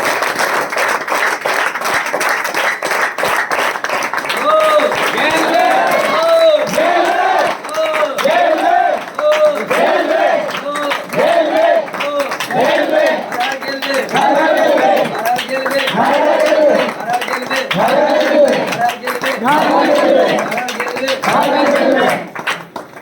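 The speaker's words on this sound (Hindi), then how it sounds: "एक बार जोरदार ताली बजा दीजिए दोस्तों।" A large audience at a motivational speech claps loudly and continuously, with crowd voices chanting and cheering over the dense applause throughout.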